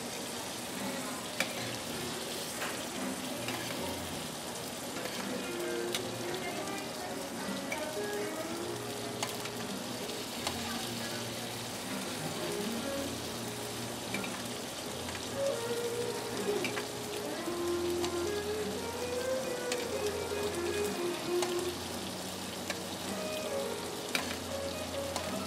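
Marinated octopus and garlic fry in a pan, a steady dense sizzle crackling evenly throughout, close and continuous, with faint tonal sounds drifting in the background.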